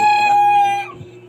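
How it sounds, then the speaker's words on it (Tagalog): A loud rooster crows close by outside a shop, one long harmonic call that holds, then breaks off, followed by quiet. "Ingay ng manok na to."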